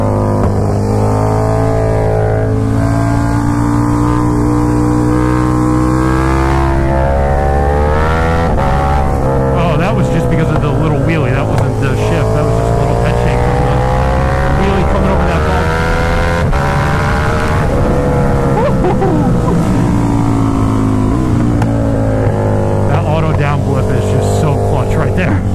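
A KTM Super Duke motorcycle pulls hard out of a corner, its loud engine note climbing and dropping through gear changes over a sustained, close roar. A rider speaks now and then over the noise.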